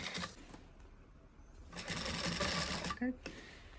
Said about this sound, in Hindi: इस तरीके से हमें मशीन की स्पीड कम रखनी है और धीरे धीरे हमें अपनी लाइन पे मशीन को चलाते रहना